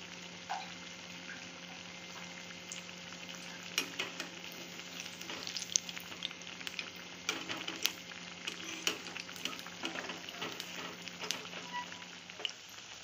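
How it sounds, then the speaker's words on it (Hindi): Buckwheat flour pakoras deep-frying in oil over a medium flame, a steady crackling sizzle with constant small pops and bubbling, continuous and fairly close. "मीडियम गैस पे फ्राई करने हैं, जब तक कि अच्छे से सिक ना जाए।"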